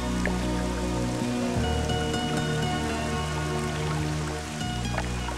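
Steady heavy rain falls and patters on surfaces outdoors, a dense continuous wash of drops under a background of low sustained music tones, with no talking.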